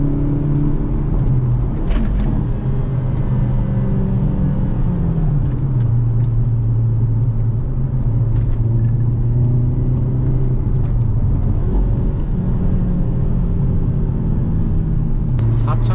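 Hyundai Avante N with manual gearbox, downshifting with rev matching around 4000 RPM: a steady loud engine drone and road rumble throughout, with brief rev blips near the start and end of the passage.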